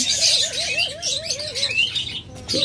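Caged pet birds chirp up close, one voice holding a warbling, wavering whistle while sharper tweets and calls crowd around it, with a brief soft flutter near the end.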